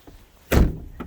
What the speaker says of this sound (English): All right, close your door.